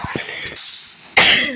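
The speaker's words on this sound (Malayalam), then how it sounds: "എനിക്ക് ചെറിയ ചുമയൊക്കെ ഉള്ളതുകൊണ്ടാണ്" Several short, close coughs from one person, a quick burst at the start, a brief throat-clearing pause, then one louder cough near the end.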